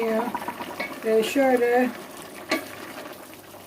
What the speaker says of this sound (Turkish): Bayağıdır kaynıyor.